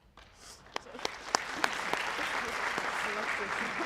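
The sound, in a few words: applause for Class of 2022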